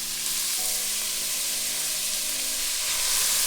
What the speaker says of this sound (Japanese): 野菜入れて弱火で炒めましょう。